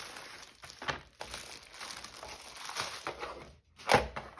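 Plastic packaging pulled open by hand, close crinkling and crackling in irregular bursts with a brief pause and a sharp final rustle, no talking.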